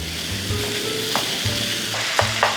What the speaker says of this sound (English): And we're just gonna sear this off and break it up as we go.